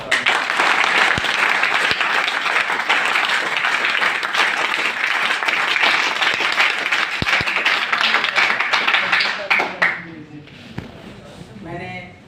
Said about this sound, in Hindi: एक बार फिर से हम लोग NSS तालियों से सर का बहुत बहुत स्वागत करते हैं।